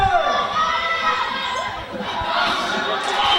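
Volleyball team shouting a cheer together after scoring an ace, a burst of young voices ringing out in a gym amid crowd noise.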